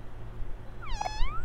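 A single cat meow rises and falls in the OMORI video game, clear and fairly close over a quiet, low background hum.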